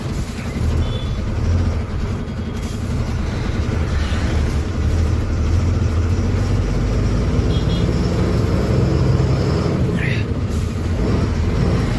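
A truck on a night journey, the steady low rumble of its engine and road noise running throughout, with a voice talking over it.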